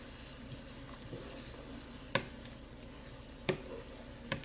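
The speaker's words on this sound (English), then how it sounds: "I always like to saute my onions in a good amount of butter." Onions soften in a generous amount of butter in a pan, a faint low sizzle broken by a few sharp clacks of the spoon as they are stirred, no voice present.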